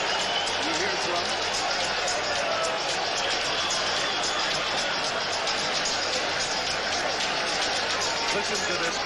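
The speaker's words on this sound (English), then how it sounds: "Listen to this crowd." Large boxing arena crowd roaring steadily before the 1980 Duran vs Leonard fight, a dense, loud, continuous wash of cheering voices with an announcer talking over it throughout.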